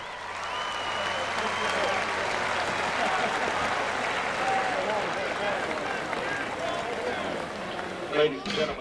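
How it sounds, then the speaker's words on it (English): A crowd at a 2007 high school all-star football charity game applauds, a faint, steady wash of distant clapping and cheering that fades out near the end. "Let's give him a round of applause."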